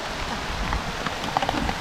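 Rain falls steadily in a fairly loud, continuous patter on a surface, with a few sharper drops standing out near the end and no talking.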